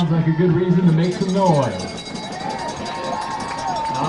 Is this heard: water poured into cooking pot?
no